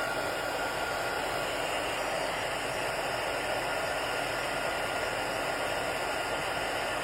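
A heat tool blows steadily while it heats embossed paper until the paper turns glossy, giving a constant loud hiss-like whoosh with no pauses or talking.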